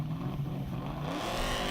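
A 4.7-litre Shelby Mustang launches hard off the line at a hillclimb, its engine roaring loud and close for the whole moment with a steady, rising growl and no voices.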